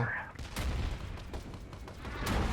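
A bomb blast and gunfire in the video game CROWZ, loud and dense, with rumbling booms and rapid shots filling the whole stretch, and a player's voice talking over the battle.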